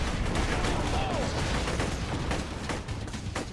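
Grenade blasts and gunfire in the shooter game Borderlands 2, a dense, loud barrage of bursts and crackles running throughout with voices partly mixed in.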